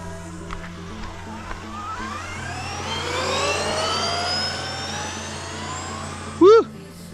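A Traxxas XRT 8S RC truck driving with rising and falling whining motor sweeps that climb in pitch, ending in a sharp squeal, with a voice briefly heard near the end.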